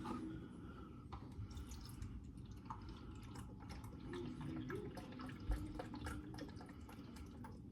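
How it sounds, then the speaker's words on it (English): Vegetable broth poured into a pan of mashed vegetables gives soft, quiet splashes and trickling drips, scattered irregularly and heard close by without talk. "I'm adding it now, and so for the broth, you need a half a cup."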